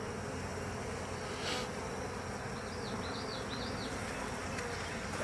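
Honey bees buzz steadily from an open beehive full of brood and nectar during an inspection, a dense, continuous close hum with a few louder bees flying past.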